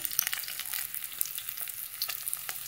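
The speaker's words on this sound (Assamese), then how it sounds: "এইভাবে ফুল ফ্ৰাই কৰি লৈছোঁ মই, দেখিছে মাছ ফ্ৰাই হৈ গ'ল" Local fish frying in a pan, a close crackling sizzle with sharp pops and spatters scattered through it, no voices.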